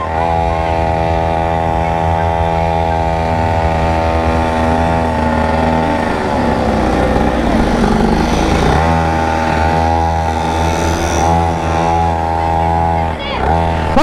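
Superbike engine running at a school summer camp, a loud steady idle with strong harmonic drone, briefly revved in the middle before settling back, with voices talking over it.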